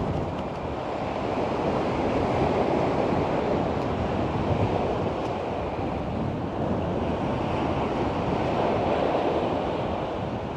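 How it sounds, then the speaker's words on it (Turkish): A storm in Bodrum sends strong wind buffeting the microphone over crashing sea waves in a dense, steady roar with no voices. "rüzgar etkisini arttırmış"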